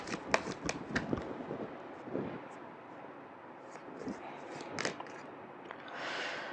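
Tarot cards are shuffled by hand at close range, a series of quick riffling flicks and soft slaps in irregular bursts, fairly quiet, with a faint rustle near the end.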